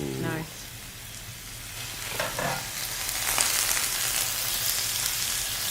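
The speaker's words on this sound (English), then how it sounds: "Listen to that sizzle." Soy-ginger marinated pork pieces and pineapple hit a hot skillet with a steady, close, crackling sizzle that holds for several seconds, a little stirring noise showing near the start.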